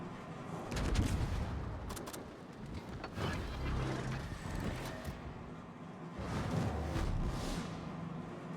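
A USS Tennessee battleship in World of Warships fires HE and AP shells. Several heavy booming salvos and sharp cracks sound over a rumbling background, with a big burst early and another cluster near the end.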